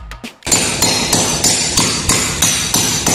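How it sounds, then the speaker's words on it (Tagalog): A hammer drives a dyna anchor bolt, with a nut threaded on to protect the thread, in about eight steady, evenly spaced sharp metallic strikes, loud and close. "Tapos pukpukin natin martilyo."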